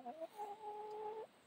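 A wet chicken standing out in the rain gives one drawn-out, wavering call lasting about a second, faint and set against a soft background hiss.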